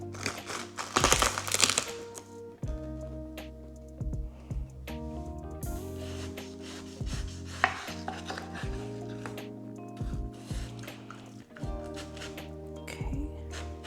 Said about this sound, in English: Take the labels off, wash your fruit, and then cut it.